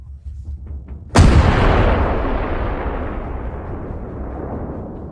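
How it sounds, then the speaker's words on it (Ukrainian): A single heavy M777 howitzer artillery blast booms suddenly, followed by a long rolling echo that slowly fades across the open air. "Гармати М777 відкривають вогонь"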